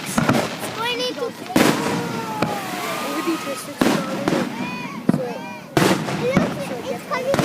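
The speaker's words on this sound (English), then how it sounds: "I don't know what's so cool about these fireworks" Fireworks bursting over Hilo Bay during a 4th of July show, with several sharp booming cracks spaced through the scene and crackling trails between them, while voices chatter and exclaim close by throughout.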